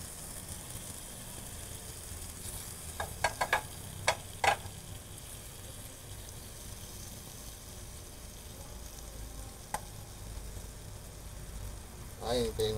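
Corned beef and potatoes frying together in a pan for breakfast, a faint steady sizzle with occasional utensil clicks and scrapes, with a voice talking over it.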